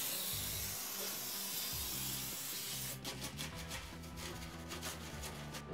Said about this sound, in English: So just use disinfectant spray.